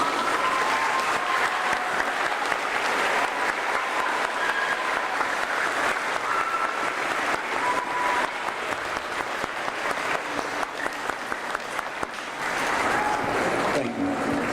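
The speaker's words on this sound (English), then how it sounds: "Let's give a round of applause." Sustained audience applause at a middle school Veterans Day ceremony, honoring veterans; dense, steady clapping fills the room for the whole stretch, dipping slightly near the end.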